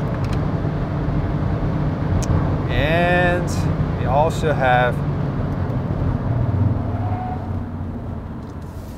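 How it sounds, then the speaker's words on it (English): A 2021 Hyundai Elantra hybrid cruises at very high speed, giving a steady, loud roar of road and wind noise from inside the cabin, with someone talking briefly over it midway. "the all-new Hyundai Elantra with hybrid powertrain feels quite stable even on very, very high speed"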